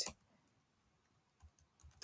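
Computer keyboard typing the ifconfig command, a few faint, quick keystrokes in a quiet room, the clicks spaced irregularly with a couple of louder taps at the start and end.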